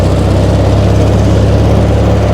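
A tractor with chevron-tread tyres running steadily while cutting grass, a loud, constant low engine drone with a mower-like hum and no variation over a couple of seconds.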